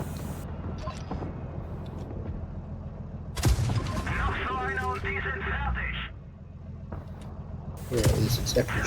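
A KV-2 tank's heavy cannon fires in World of Tanks Blitz, one sharp loud blast followed by mechanical clanking and engine rumble, and a second blast near the end, with talk over the top.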